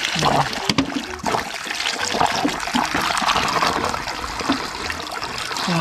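Water gushes steadily from a homemade DIY pump running without an electric motor in Mindanao, a continuous close splashing flow throughout with a few brief voices over it.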